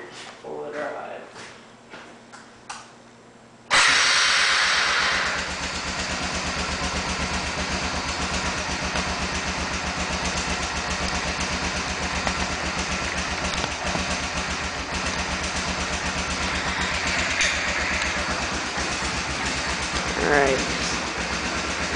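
A 1992 Honda Fourtrax 300 4x4 ATV engine starts up after some handling noises and then idles steadily and fairly loud. Someone talks over the running engine.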